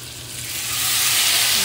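Ginger, onion and garlic paste goes into hot butter in a pan, and a loud, steady sizzle and crackle swells over a couple of seconds.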